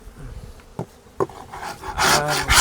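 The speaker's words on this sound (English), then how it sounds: "Scraping on the covers all the live long day." Beekeeper scraping wax and propolis off wooden beehive covers with a hive tool, a rasping scrape that builds into sustained loud rubbing toward the end, with bees buzzing nearby.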